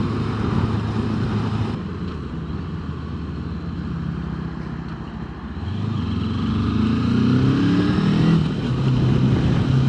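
A Moto Morini 380 motorcycle rides along a road, its engine droning steadily and swelling as the rider opens the throttle, with wind rush throughout.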